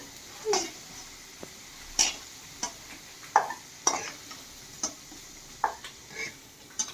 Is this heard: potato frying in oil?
yes